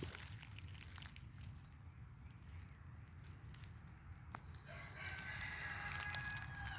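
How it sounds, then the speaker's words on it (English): A rooster crows faintly in the distance over a low outdoor hum in central North Carolina, with a few soft rustles nearby. "Yep, that's my neighbor's rooster."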